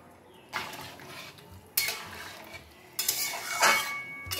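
Fried parwal (pointed gourd) is stirred into a pot of half-cooked dal, with three separate bursts of spoon-on-metal clatter and wet scraping and quiet pauses between them.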